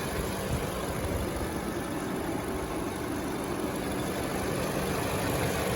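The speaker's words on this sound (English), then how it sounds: "It's a turbocharged engine." A 2020 Lexus NX300 F Sport's turbocharged engine idles in a steady, even drone, with no voices.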